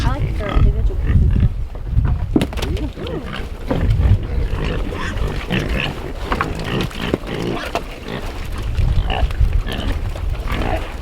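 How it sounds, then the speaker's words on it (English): Farm pigs grunt and squeal steadily while being fed scraps, a dense close chorus of snorts and chewing that lasts throughout, with a person talking over them. "let's feed these pigs"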